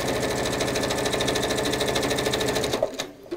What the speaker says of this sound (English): Oh, my bobbin does not sound terribly happy in there for some reason.